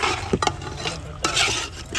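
Chicken pieces mashed in a pot for a village-style chicken karahi, heard as a few close scraping, thudding strokes over a low background hum, with no talking.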